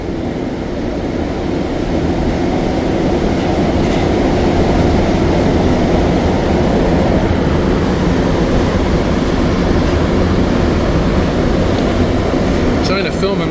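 An MR-73 Montreal Metro train on the Green Line, heard from inside a car while running, with a loud continuous rumble, wheel and track noise holding steady throughout and a faint squeal near the end.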